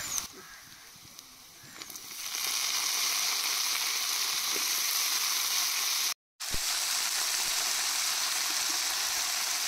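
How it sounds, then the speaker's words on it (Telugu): Cut eggplant pieces dropped into a pan of softened onions, then a loud, steady frying sizzle that swells after a quieter start and continues with a brief dropout, close and without talk. "ఇప్పుడు మనం వంకాయ ముక్కలు కోసుకుని పెట్టుకున్నాం కదా, అవి ఇప్పుడు యాడ్ చేసుకుందాము."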